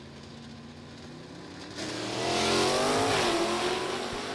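A big, heavy Chevy drag race car launches down the strip at a hot rod reunion drag race, its engine roaring up in a loud, sustained rising pull heard from a distance, with no voices.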